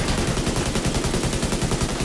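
Rapid automatic gunfire from a weapon in The Division 2: Warlords of New York, a loud, steady burst of evenly spaced shots filling the whole moment, with no talking.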